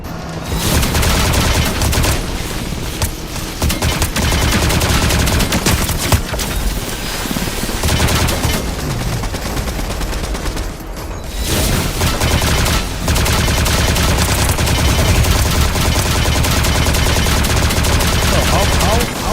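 Dense, loud gunfire from the Fortnite video game fills the stretch with rapid bursts and barrages, briefly thinning twice, while a player talks over it.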